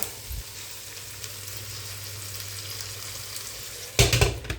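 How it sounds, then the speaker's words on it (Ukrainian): Steady sizzling of minced meat cutlets frying in a pan, with a brief clatter of utensils near the end. "і смажу зараз останню сковорідку, ось е, ще котлеток"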